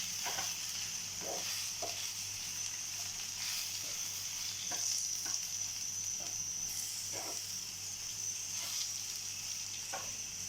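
Ingredients with chilli powder and coriander leaves fry in a pan for a sprouted-bean sambar, a quiet continuous sizzle broken by regular soft scrapes of stirring, with no talk.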